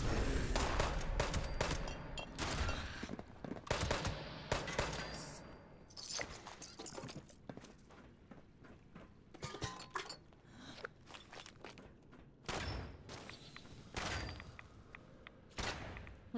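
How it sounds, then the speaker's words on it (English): Incoming gunfire aimed at the player in Fallout 76, clusters of sharp shots in irregular bursts with short gaps, loud and close at times, then scattered cracks toward the end. "Hold on, who's shooting me?"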